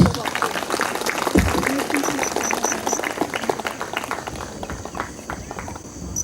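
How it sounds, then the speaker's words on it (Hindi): An audience at a meditation talk claps loudly in a sustained burst of applause, with voices mixed in and the clapping thinning slightly toward the end. "big claps and pranams."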